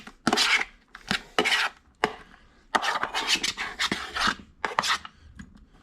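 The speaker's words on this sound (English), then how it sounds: "Just give it a bit of stir so it doesn't stick to the bottom." A utensil scrapes and rasps against the bottom of a cooking pot in a series of irregular strokes with short pauses, fairly close and moderately loud, with no talking.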